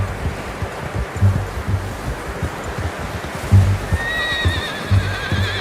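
In Red Dead Redemption 2, a horse whinnies loudly over a steady clip-clop of hooves, with a rushing, surf-like background; a second shrill neigh rises near the end.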